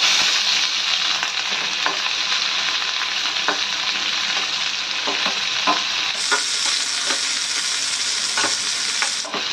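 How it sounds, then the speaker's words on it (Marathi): Whole spices (shahi jeera, cinnamon, green cardamom, byadgi chilies, poppy seeds) and sliced onions sauté in hot oil in a pan, a steady loud sizzle with repeated scraping stirs, the hiss growing brighter partway through. "एखादा मिनिटभर याला परतून घ्यायचं"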